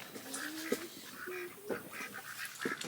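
Several ducks quack in short, nasal calls spaced across a couple of seconds, close by and clear, with no talk over them, outdoors on an Ozarks homestead.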